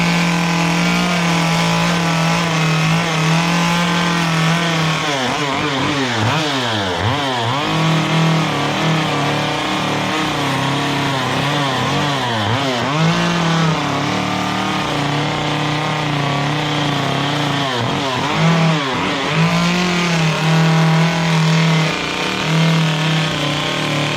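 A chainsaw roars continuously at close range while carving a wooden bear head, idling steadily and then swooping up and down in repeated revs as it bites into the wood several times.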